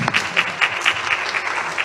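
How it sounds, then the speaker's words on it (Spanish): Audience applause fills a lecture hall after a presenter is introduced, a steady wash of many hands clapping with a few faint voices mixed in. "quien recibamos nuevamente con un aplauso"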